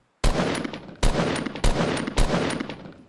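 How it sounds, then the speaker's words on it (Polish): Four sharp gunshots fire in quick succession in Fortnite, each a loud crack followed by a short decaying rumble. "Stajemy, oddajemy strzał,"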